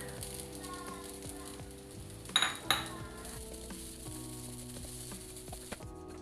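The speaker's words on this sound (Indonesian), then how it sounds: "Selanjutnya kita bisa mulai untuk mensangrai si kelapanya ini" Grated coconut dry-roasting in a pan, stirred with a utensil: a steady dry sizzle and rustle, with a couple of sharp clinks of metal against the pan partway through.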